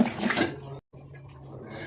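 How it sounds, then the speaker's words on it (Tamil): Hands rinsed under a running tap after working a sticky homemade hair dye mixture, a steady close wash of splashing water broken by one brief silent gap. "கையில் ஒட்டி இருக்குன்னு கையை வந்து வாஷ் பண்ணேன்"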